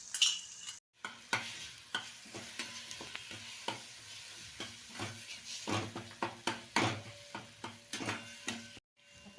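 Green masala paste with red chili powder frying in oil in a pan, a steady sizzle broken by repeated scraping stirs of a spatula, close and continuous, with no voices.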